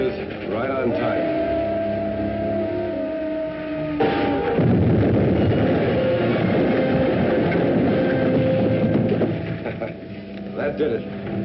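A troop train passes on the rails, its loud, broad rumble and roar starting abruptly a few seconds in and filling the rest of the stretch before easing slightly near the end.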